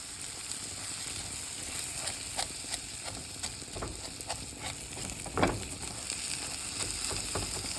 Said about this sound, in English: you're just going to coat it with the butter. And let it brown.